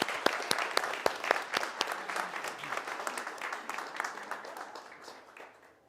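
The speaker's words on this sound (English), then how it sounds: "So with a round of applause," An audience at a morning talk in a historic mansion gives a round of dense, steady applause that builds briefly, then thins out and fades away over about six seconds.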